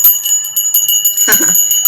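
Small bells ring in quick, bright repeated strikes during a live chat, their clear sustained tones carrying throughout, with a louder jangling cluster near the end.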